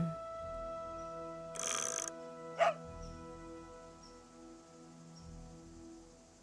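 A single short dog bark sounds over a steady humming ambient music bed in the video game Nancy Drew: Ghost Dogs of Moon Lake, preceded by a brief noisy burst.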